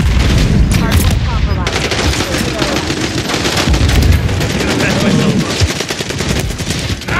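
Rapid machine-gun fire in Call of Duty MW3, dense bursts of shots rattling nonstop at close range with booms mixed in and a voice talking faintly beneath.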